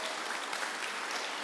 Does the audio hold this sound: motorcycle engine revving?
no